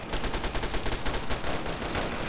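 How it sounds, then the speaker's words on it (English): Rapid automatic submachine gun fire in the video game Fallout 3, a dense, loud, sustained rattle of shots filling the whole stretch. "It's a submachine gun, I'm pretty sure. Yep, I like this gun. It's automatic."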